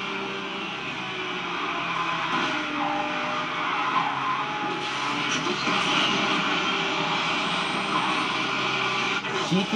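Race cars roaring and skidding in the racing video game Asphalt 9 Legends, a dense, continuous engine drone with tire screech that stays loud and steady throughout.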